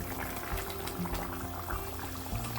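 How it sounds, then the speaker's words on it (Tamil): Tuna fish curry bubbles in a clay pot with a soft, continuous low burble and faint gurgles, quiet and close, with no talking. "இப்போ மீன் போட்டு கறி நல்லா கொதிச்சுட்டுது."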